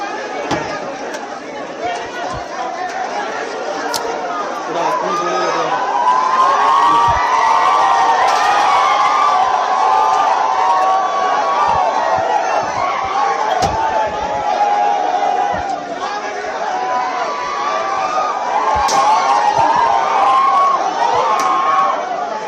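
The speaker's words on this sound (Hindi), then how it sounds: "देखिए किस तरह का शोर उठ रहा है, लोगों का आक्रोश, असंतोष ईडी की टीम के खिलाफ दिखाई दे रहा है" A large, angry crowd shouts and clamours around an ED enforcement team, a dense, continuous roar of many voices with sharp bangs and slams cutting through now and then.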